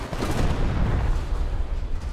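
A tank cannon firing in a war video game, heard as a dense, sustained rumbling roar with heavy low end, loud and close, with no clear separate shots.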